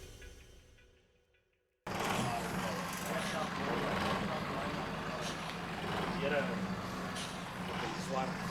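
After a fading tail and a brief cut, a tow truck engine rumbles steadily and loudly nearby while hauling away a BMW E36, a constant low drone with traffic-like noise over it.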